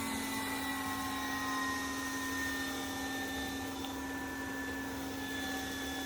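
Yeedi Mop Station Pro robot vacuum mop running on carpet, its motor holding a steady, close, constant whine with a clear tonal hum as suction and airflow ramp up, no voices over it.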